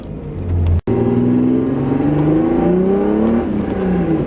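Old car with Autotech 262 cams and no wipers driving on a cold, very rainy day, its engine revving steadily and rising through gears up close, with a brief cut near the start and no talk.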